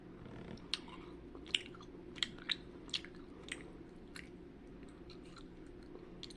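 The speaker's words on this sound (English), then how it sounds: "I'm gonna try this Sour Patch Kid." Close, quiet chewing of a gummy Sour Patch Kids candy, with soft squishy mouth sounds and several sharp little smacks spaced across the clip.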